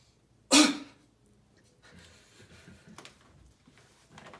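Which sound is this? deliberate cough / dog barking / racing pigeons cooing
deliberate cough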